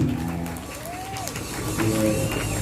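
An audience claps and cheers for a singer at a Javanese puppet-theatre performance with Ki Cahyo Kuntadi; dense, steady applause runs under sustained singing and accompaniment.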